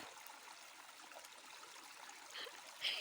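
Cold mountain water trickles in a stream, a soft, steady hiss with faint splashes and one slightly louder burble near the end, quiet and continuous with no voices.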